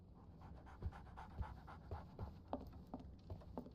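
A dog pants steadily in quick rhythmic breaths, close and moderately loud, with no other sounds, in the Sherlock Holmes The Awakened video game.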